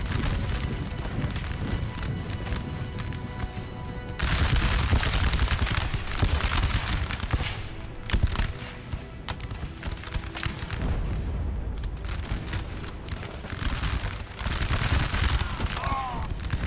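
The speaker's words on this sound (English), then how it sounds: "There's a lot of rifles about to fire." Massed rifle volleys crackle and roll in a Napoleon Total War battle at Castiglione. Dense bursts of gunfire repeat over a busy battlefield din, with a commentator's voice underneath.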